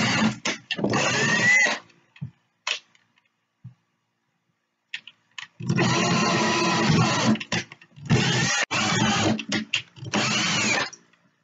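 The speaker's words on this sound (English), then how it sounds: "use my drill bit to drill the holes for my Tufted" A power drill whirs in several long bursts with short gaps between, drilling holes for tufting in a bench, loud and close, with a few brief clicks and taps in the pauses.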